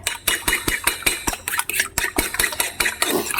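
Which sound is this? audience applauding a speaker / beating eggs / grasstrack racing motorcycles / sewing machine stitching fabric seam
beating eggs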